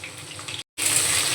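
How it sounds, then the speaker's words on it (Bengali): Cut potatoes with salt and turmeric hit hot oil, frying toward a reddish brown: a loud, steady broadband sizzle that drops out for a moment midway and then resumes at full strength, with no talking. "আলুগুলো আমি লাল লাল করে ভেজে নেব"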